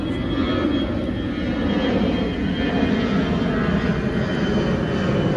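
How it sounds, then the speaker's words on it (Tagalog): An airplane flies overhead with a continuous, broad engine drone that holds steady and fairly loud throughout, with no talking over it. "Ayan, may aeroplano ulit, oh"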